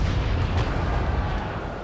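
Naval cannons fire from sailing warships in the video game Naval Action, heard as a dense, heavy, booming roar. Deep low rumble fills the whole short stretch, with a few sharper bursts on top.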